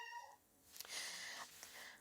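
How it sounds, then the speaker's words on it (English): A house cat meows faintly in the background indoors, giving a short drawn-out call followed by a few softer, breathy vocal sounds. "Sorry for the cat in the background."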